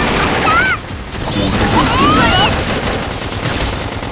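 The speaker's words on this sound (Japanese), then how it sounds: "相手をして一斉射撃だ" A volley of gunfire in the Xenoblade Chronicles X battle, a loud and dense barrage of overlapping blasts with thin whistling tones sweeping through the din.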